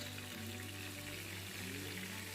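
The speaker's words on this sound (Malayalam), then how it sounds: "അപ്പോൾ എണ്ണയൊന്ന് ചൂടായി വരുമ്പം നമുക്ക് നമ്മൾ മാരിനേറ്റ് ചെയ്ത് വെച്ച ഒരു ചെമ്മീൻ ഇതിലേക്ക് ചേർക്കാം" Marinated prawns fry in hot coconut oil with a steady, dense sizzle that holds at an even level throughout, close and continuous.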